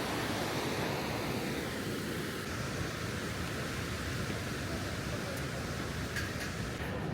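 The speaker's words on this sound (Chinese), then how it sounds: "这就是长白瀑布流下来的河水啊。" River water flowing down from the Changbai waterfall makes a steady, broad rushing roar that holds at an even level throughout, with no breaks.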